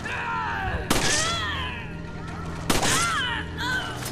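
Two loud gunshots about two seconds apart in the co-op game Resident Evil 5, each followed by a ringing, wavering tail over a low ambient hum.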